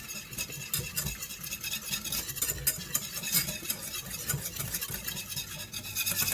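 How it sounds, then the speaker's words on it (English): Flour being stirred vigorously into a roux in a pan for mac and cheese, a continuous scraping, swishing sound with faint sizzling underneath, close and moderately quiet with no talking. "If you want to get a really aggressive stir on it"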